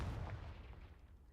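A fiery Confringo blast spell going off in the video game Hogwarts Legacy, a dull rumbling boom with a heavy low-end roll that decays over about a second, no talk.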